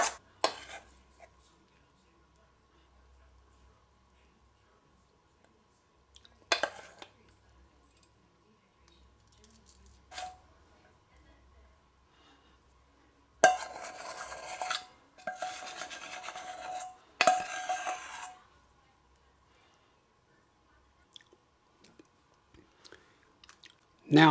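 Several scraping, scooping bursts of chocolate cake batter being spooned into a mug, separated by quiet pauses, close and fairly soft with no talking.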